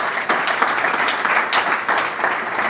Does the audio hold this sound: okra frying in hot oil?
no